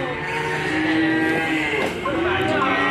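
A white PO cattle bull gives a loud, drawn-out moo close by, held low and steady for nearly three seconds.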